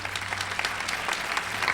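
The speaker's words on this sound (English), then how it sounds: "Could we have another round of applause for our wonderful speakers?" Steady audience applause rises for the speakers at a BMR graduation ceremony, a brief continuous burst of many hands clapping in a hall.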